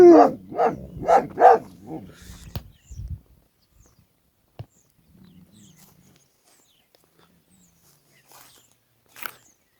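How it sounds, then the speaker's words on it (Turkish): A yellow dog barks in a quick burst of four or five loud, close barks, followed by a few faint shuffles and a brief distant yip in otherwise quiet surroundings. "benden gaz alıyor da onlara hırlıyor"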